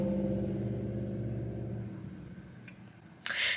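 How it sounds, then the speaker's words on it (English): Cars passing outside on a street, a steady loud rumble of traffic that fades partway through, followed by a brief sharper noise near the end. "These cars is loud."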